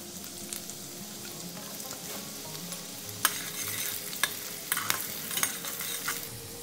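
Long-cut carrot strips fry in oil with cardamom, cinnamon and cloves for paneer fried rice, a close steady sizzle broken by sharp clinks and scrapes of stirring.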